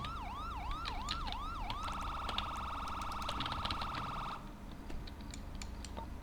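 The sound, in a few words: police siren in a video game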